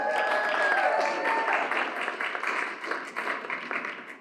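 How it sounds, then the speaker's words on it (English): Applause from an audience at a New York panel on astrology wellness businesses, a dense patter of many hands that starts full and gradually thins and fades, with a brief whistle-like tone near the start. "Please give them an applause."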